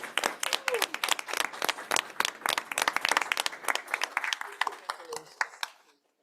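A small audience at a city school board meeting claps for elementary art contest winners, individual claps sharp and distinct in an irregular patter that thins out and stops after about six seconds.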